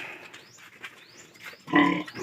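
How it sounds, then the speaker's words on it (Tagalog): Piglets grunt in a pen, a few soft nasal grunts and squeaky calls close by, ending in a louder burst of grunting, with no talk over them. "yan mga kabinas yung baboy"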